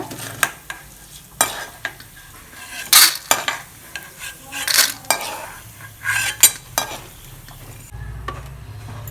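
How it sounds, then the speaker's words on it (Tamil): Chutney ingredients being stirred and dry-roasted in a metal pan, with repeated scraping and clinking of a spoon against the pan over a faint sizzle, close and moderately loud, with no talking. "இது மாதிரி கருக விடாமல் வறுத்து எடுத்துக்கோங்க"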